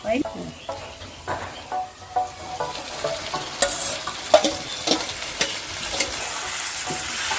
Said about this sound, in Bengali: এবার পেঁয়াজগুলো লাল লাল করে ভাজা হয়ে গেছে, চিকেনটা দিয়ে দেবো।